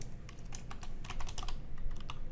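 Rapid bursts of keystrokes on a computer keyboard as an email address is entered, close and crisp, clicking in an uneven rhythm with no one talking.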